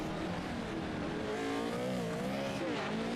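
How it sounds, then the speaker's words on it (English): Pro 4 off-road racing trucks roar around a dirt track at Wild West Motorsports Park, engines droning and shifting pitch in a distant, steady wash of noise. "Starting our week here off right on the dirt here for the Pro 4 trucks."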